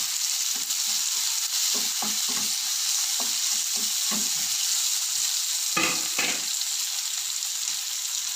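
Curry leaves sautéing in a pan of hot oil for an eggplant fry, with a loud continuous sizzle and hiss and repeated knocks and scrapes of a spoon stirring against the pan.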